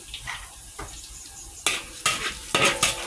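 Pad see ew made with small rice noodles and garlic being stir-fried, with a utensil scraping and clanking against the pan over faint sizzling in quick irregular strokes, no talking.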